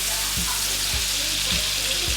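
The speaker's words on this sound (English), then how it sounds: "Just frying this tomato and onion just a little bit" Tomato and onion frying in a pan, a steady loud sizzle with a few soft knocks as the pieces are stirred.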